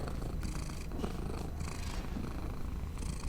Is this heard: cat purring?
yes